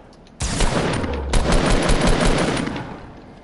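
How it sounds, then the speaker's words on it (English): Sustained automatic assault rifle fire in the Fortnite video game, two long loud bursts of rapid shots, the second running close to three seconds, with no talking. "I'm trying to shoot her with the AR."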